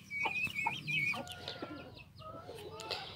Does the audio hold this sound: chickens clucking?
yes